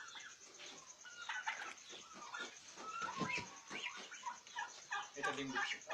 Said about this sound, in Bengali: আমরা একটা টার্কি দেখতে পাচ্ছি যে টার্কিটা ডিম দিচ্ছে